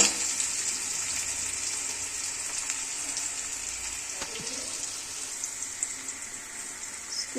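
Chicken sizzles in a pan in a home kitchen, a steady bright hiss with faint crackles throughout and a brief clatter near the middle, close and without speech.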